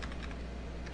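Quick keystrokes on a computer keyboard while entering a script, a short close burst of light clicks over a low hum.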